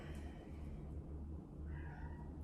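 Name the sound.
cat meowing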